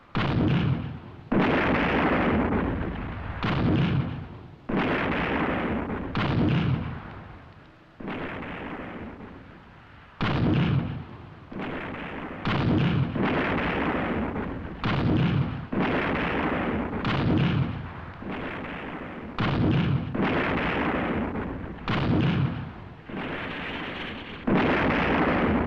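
Cannons fire a volley in a run of about a dozen heavy booming shots, each loud and close, spaced roughly two seconds apart with rumbling decay between. No voices are heard.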